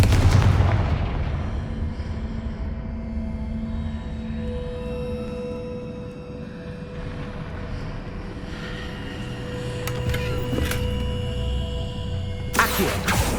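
A Confringo blasting spell goes off in Hogwarts Legacy: a heavy boom opens, then a sustained rumbling roar with scattered crackles, and a sharp burst lands near the end. No voices.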